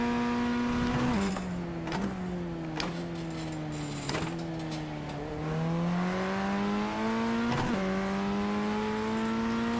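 BMW M2 engine revving hard in first gear on a race track, a loud continuous in-car drone climbing and dropping through repeated upshifts and lifts with steady harmonic pitch sweeps.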